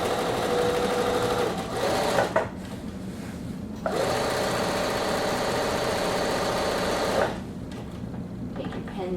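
A sewing machine stitches a half-inch seam on atikłuq parka body pieces, running forward and then in reverse to lock the stitches. Its steady whirring runs are broken by short pauses.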